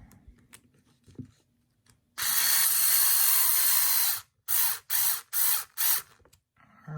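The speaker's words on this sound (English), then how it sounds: "use the hex driver instead of the wrench this time" A hex driver turns screws on the rear axle of a Tamiya TT-02 Type SR radio-control chassis kit, giving a long ratcheting run followed by four short bursts, close and alone.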